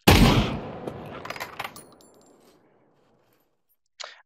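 Sniper rifle fire in the Pavlov VR shooter game: one sharp, loud report opens, followed by a decaying tail and a few fainter mechanical clicks, then a short burst after a pause.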